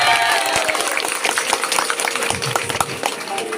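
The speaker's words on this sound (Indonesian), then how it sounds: "Tepuk tangan dulu." Students and staff at a high school gathering during an education official's visit give a round of handclapping. The applause is moderately loud and steady, then slowly thins out.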